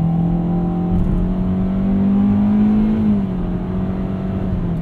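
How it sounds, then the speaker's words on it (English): A 2020 Kia Soul X-Line's 147-horsepower 2-liter engine with a CVT, driven at night, drones steadily as it accelerates, its pitch climbing and then dropping in simulated shifts, loud and close with no talking. "You can hear those simulated shifts."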